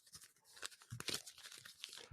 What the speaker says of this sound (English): waving a piece of paper up and down like 5 times while trying to open it